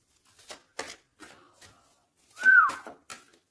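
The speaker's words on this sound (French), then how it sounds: "Non, c'est pas bien de siffler, pardon." A short, sliding whistle rises and bends once, close and clear, amid a series of crisp papery shuffling flicks.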